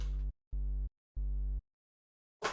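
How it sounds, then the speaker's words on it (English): A low, steady pure tone sounds in three even bursts separated by short silences, followed by a brief noisy burst. "We got the sine wave. It's just pure sine."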